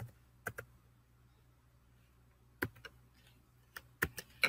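A Chromebook keyboard tapped in a few sparse clusters of light key clicks, close but quiet, with no talking.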